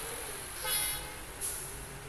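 A bus horn sounds twice in a rainy bus driving game, one longer honk followed by a shorter one, over a steady wash of rain and engine noise, with no talking.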